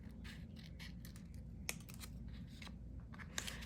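Scissors snipping through a sheet of shrink plastic while trimming earring designs, a series of quiet, close crisp cuts and scratchy rustles, with two sharper clicks standing out.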